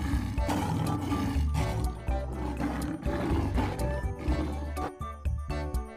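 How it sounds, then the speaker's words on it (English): A lion roars loudly and repeatedly across several seconds in a children's phonics alphabet song, with deep rumbling bursts set against a musical backing. "L for lion."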